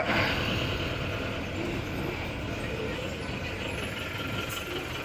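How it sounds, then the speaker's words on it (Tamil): A heavy traffic jam of trucks and buses on a road toward Chengalpattu makes a dense, constant wash of engine idling and road noise, moderately loud and unbroken throughout. "பயங்கர போக்குவரத்து நெரிசல்."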